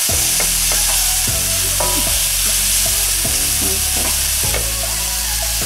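Shrimp frying in a hot pan, a loud, dense sizzle running throughout while a utensil scrapes and stirs in a repeated rhythm close by.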